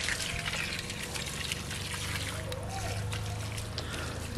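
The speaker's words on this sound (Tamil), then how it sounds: "இப்போ தண்ணியை ஊற்றி நல்லா குழப்பி விட்டுறலாம் செட் ஆகிறதுக்கு." Water poured onto soil around stones while building a walkway, a continuous trickling wash over steady background noise, with a low hum in the later part and a brief knock at the end.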